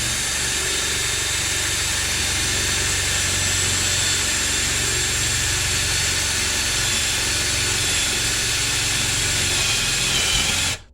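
A power drill with a dull bit grinds through a wall in one continuous, loud, hissing whine that stops abruptly at the end.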